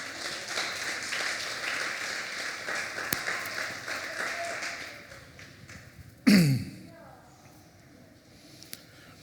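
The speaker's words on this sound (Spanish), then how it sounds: "Dale un aplauso a nuestro Señor." A church congregation at a Spanish-language sermon gives a warm round of applause that carries for several seconds, then fades out, followed by a sharp thump and quiet room sound.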